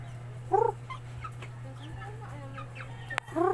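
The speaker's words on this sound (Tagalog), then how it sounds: "Chicken cobra." Chicken clucking in short, close bursts, one at the start and another at the end, over a steady low hum with faint background sounds.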